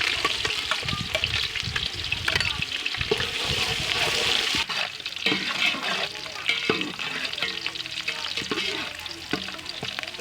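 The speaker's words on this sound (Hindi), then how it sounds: "घी हमारा गर्म हो गया, इसमें हम डालेंगे प्याज।" Onions frying in hot ghee for a two-colour chicken biryani, a loud steady sizzle and crackle with stirring scrapes, strongest in the first half and then settling to a softer bubbling fry.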